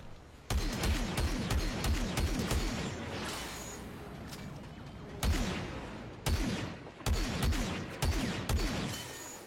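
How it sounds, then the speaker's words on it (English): A weapon with a high rate of fire in a video game, loud rapid bursts of gunfire in several sustained volleys separated by brief pauses, close and punchy. "This initial weapon's got a good rate of fire on it."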